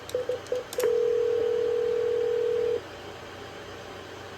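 A Cisco 7965 IP phone on a house phone system dials: a quick string of short touch-tone beeps, then a long, steady tone holding for about two seconds before dropping to a faint background hum.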